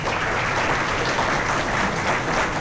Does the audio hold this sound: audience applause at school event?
yes